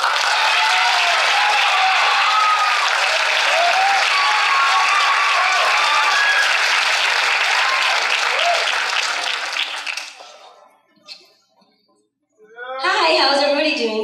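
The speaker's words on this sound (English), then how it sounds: "Please give a round of applause for Anatalia." An audience at a poetry slam claps and cheers loudly for about ten seconds, then the applause fades out and a voice begins talking.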